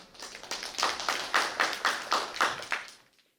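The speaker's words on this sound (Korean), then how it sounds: "박수 부탁드립니다" An audience at an academic symposium marking 30 years of Korea–China relations claps for a speaker. Brisk, fairly regular claps carry on for about three seconds, then stop abruptly.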